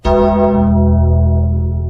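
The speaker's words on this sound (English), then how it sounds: "I'm abusing the bell" A bell sound effect strikes once loudly and rings on with a long, resonant, slowly fading tone, heard alone without speech.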